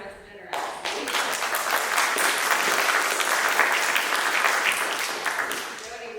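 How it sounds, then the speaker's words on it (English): Audience applause at a faculty concert, a dense sustained clapping from a full room that swells in after a brief lull and carries on steadily to the end. "Here's a round of applause for Notes of Generosity"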